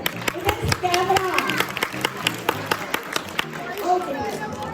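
An audience claps at a children's day celebration at St. George Group of Bhopal, a close, uneven burst of hand claps with voices chattering alongside.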